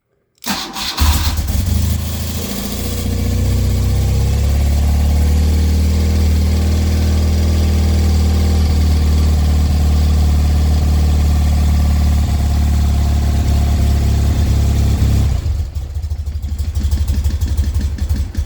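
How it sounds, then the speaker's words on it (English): A 1975 BMW R90S motorcycle engine cold-starts on choke with a brief crank, catches and settles into a steady, loud, close idle that runs for about fifteen seconds before softening slightly near the end. "That's the cold start."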